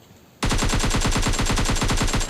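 Automatic weapon fire in the mobile battle royale game PUBG Lite: after a quiet start, a long steady burst of rapid, evenly spaced shots, loud and close.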